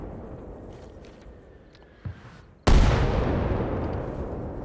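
Mortar artillery fire controlled by AI in the Arma Reforger video game, one faint distant thump followed by a loud close blast whose rumble slowly fades, with no talk.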